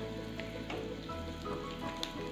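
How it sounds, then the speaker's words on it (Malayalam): Mustard seeds crackle in hot coconut oil in a pan, a faint, steady sizzle broken by scattered sharp pops, with no talking. "കടുക് പൊട്ടി തുടങ്ങിയിട്ടുണ്ട്"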